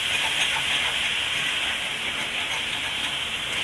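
Liquid hits onions cooking in a hot pan, giving a steady, bright sizzling hiss that holds evenly throughout.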